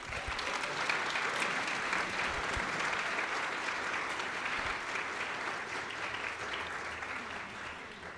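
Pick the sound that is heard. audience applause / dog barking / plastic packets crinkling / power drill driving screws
audience applause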